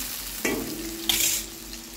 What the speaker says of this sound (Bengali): আলুটাকে ভেজে নিয়ে ভালো করে গ্যাসটাকে জোরে দিয়ে আলুটাকে ভালো করে